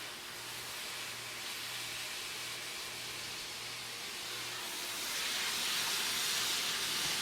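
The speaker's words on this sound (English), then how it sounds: "So now we're gonna add the ground beef. Just gonna dump all of that in there." Ground beef browning in a pan gives a steady, broadband hiss of sizzling that grows louder toward the end, close and continuous with no talking.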